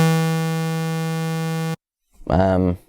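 A harsh, buzzy synthesizer tone holds steady and loud for nearly two seconds, then stops abruptly; a short voiced sound follows after a brief silence.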